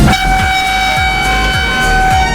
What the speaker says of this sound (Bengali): তো ট্রেন এখন ছাড়তে চলেছে